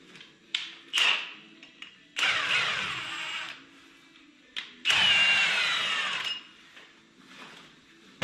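A power tool chases a thread on a Kubota B26 tractor near the rear tire, with two long whirring runs and several short bursts and clicks between them, close and fairly loud.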